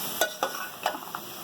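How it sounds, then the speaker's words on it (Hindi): A spoon mixes potatoes and chickpeas with other ingredients for potato chana chaat, making four or five short, sharp scraping clicks against the bowl in quick succession, close and clear without speech. "अब हम बाकी भी सारे इंग्रेडिएंट्स इसमें मिक्स कर रहे हैं।"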